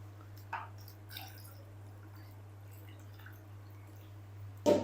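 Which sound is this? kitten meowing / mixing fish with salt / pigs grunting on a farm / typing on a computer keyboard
mixing fish with salt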